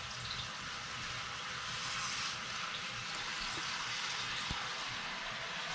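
Tap water runs steadily from a bathroom faucet into a plugged sink, a continuous, even rushing hiss that fills the whole stretch with no talk over it.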